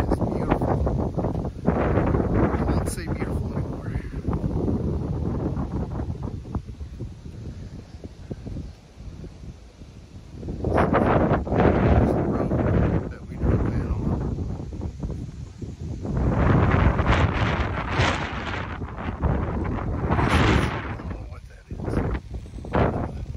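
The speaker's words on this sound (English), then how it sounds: "It's a little windy out here" Gusty wind buffets the microphone in loud, rumbling bursts that come and go, with stretches of calmer air between.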